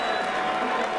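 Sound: boxing arena crowd applause at Caesar's Palace

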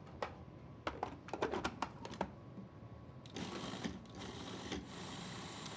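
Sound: food processor pureeing citrus juice and segments with sugar

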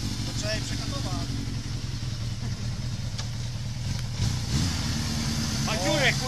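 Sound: Suzuki GS motorcycle engine running

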